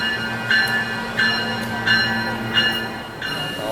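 A SMART commuter train runs steadily, with a low rumble and periodic metallic clicks from the wheels recurring about every second.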